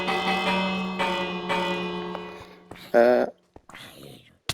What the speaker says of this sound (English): I wonder if that was because I rang the bell.